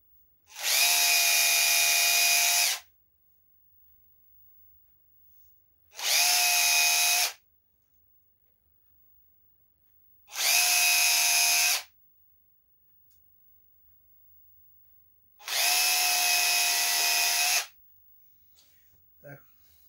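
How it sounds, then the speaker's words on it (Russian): An electric drill whines in four separate bursts of a few seconds each, with quiet gaps between them, drilling into a shoe to fit anti-ice spikes. "берем дрель, засверливаем"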